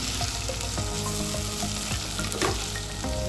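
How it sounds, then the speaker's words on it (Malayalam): Tomatoes sautéing in a hot pan with ginger and green chillies, a steady loud sizzle with occasional stirring scrapes throughout, no voices. "തക്കാളി ചേർത്തിട്ട് നന്നായിട്ടൊന്ന് വഴറ്റിയെടുക്കാം."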